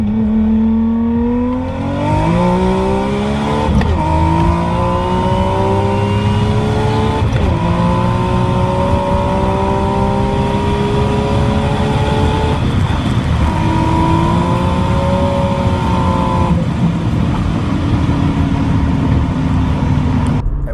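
A Nissan 300ZX twin turbo with boost raised from the stock 9 to 14 PSI and running rich pulls hard, its engine note climbing loudly through several gear shifts with no talking.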